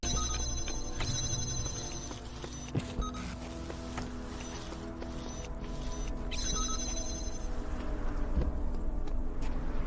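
A phone notification ringtone chimes during an online game stream, repeating bright tonal beeps over a background hum, fairly faint and alone without talk.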